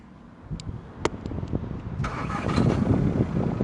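An Audi A3 Quattro 2.0 TDI diesel engine cranks briefly and then catches, settling into a steady, rumbling run after a few faint clicks.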